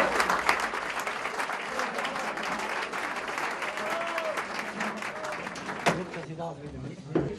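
Dense, sustained audience applause at a Swiss comedy evening in Willisau, many hands clapping loudly with a few voices mixed in, fading toward the end.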